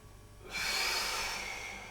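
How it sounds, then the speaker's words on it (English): A deep, drawn-out breath during a seated wheelchair yoga stretch, starting abruptly after a quiet moment and continuing as a loud, steady airy rush close to the listener, alone without talk. "I like to breathe in all the way up"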